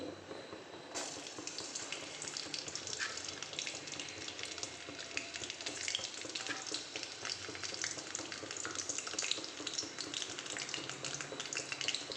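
Chillies dropped into hot oil for sweet corn fried rice sizzle loudly and steadily after a brief quieter start, with a dense crackling hiss and occasional stirring clinks throughout.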